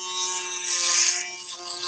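Babyliss FX electric shaver running, a steady high-pitched buzzing whine with a constant motor hum, close and fairly loud, wavering slightly in tone as it works.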